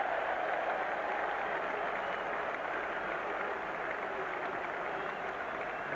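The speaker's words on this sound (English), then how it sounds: "And the home crowd has something to cheer." A home crowd at a 1995 England versus West Indies Test cricket match applauds steadily, a dense, even wash of clapping from a distant stand that holds constant for about six seconds with no break.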